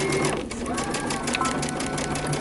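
A sewing machine stitching pants fabric, a fast steady mechanical whir and patter close by, with a voice talking over it.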